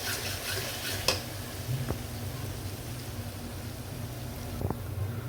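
A spice masala with chillies is sautéed and stirred in a pan for a home-style chicken dish. A dense, continuous sizzle runs under scraping stir strokes, with a couple of brief clicks.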